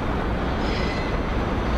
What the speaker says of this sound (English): And the train is still coming.